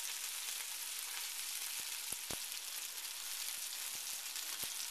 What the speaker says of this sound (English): just be careful when you flip the sausage to its side